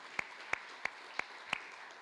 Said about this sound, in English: One more round of applause for those